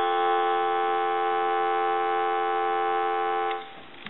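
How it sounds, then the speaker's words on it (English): A steady, unbroken dial tone from an Elephant brass telephone hums for several seconds at an even loudness, then cuts off abruptly near the end. "Give you some dial tone."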